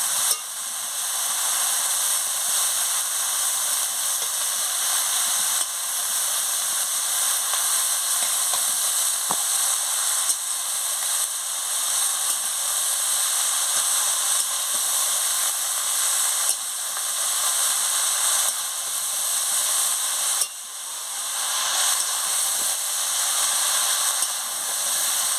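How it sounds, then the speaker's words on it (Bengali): Shredded cabbage sizzles steadily in a hot pan for a Bengali fish-head cabbage dish, a continuous bright hiss with a few faint scrapes of stirring and no talk. "বাঁধাকপিটা দিয়ে ভালো করে নাড়িয়ে নিচ্ছি।"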